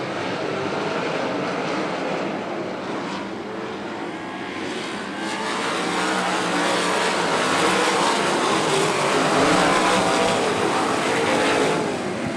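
A pack of Engine Pro dirt sprint cars roars away at the green flag on a dirt track at Plymouth, a loud, dense wall of engine noise that builds and swells as the field accelerates.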